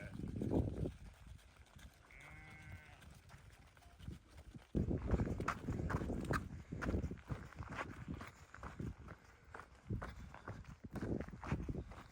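Hoof steps of a donkey led along a rocky trail near Mount Hor in Petra, Jordan, clop irregularly and fairly close amid rustling footsteps and outdoor noise, with brief voices.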